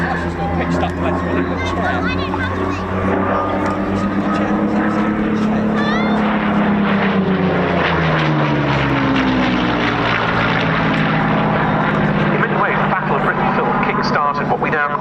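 A Hispano Buchón propeller warbird drones loudly and steadily at an air show, its engine rumble with a slowly shifting pitch running under continuous talk throughout.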